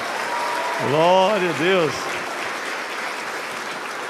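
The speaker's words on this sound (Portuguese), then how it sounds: "Quem pode aumentar essa adoração com palmas aí, meus irmãos?" At a Christmas cantata in an Assembleia de Deus church in Fortaleza, a congregation claps steadily in worship while a voice calls out loudly over the sustained, even applause.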